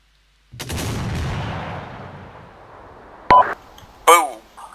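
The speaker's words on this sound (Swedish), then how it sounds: "Vi ska ju spränga allt det här så." Video game explosions as things are blown up: one sudden loud blast with a long decaying rumble, followed by two short sharp bursts with electronic chirps, no speech.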